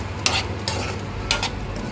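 A spoon stirs green chili sauce and white vinegar into the pan for dry Manchurian, giving three distinct scraping strokes over a low, steady kitchen background.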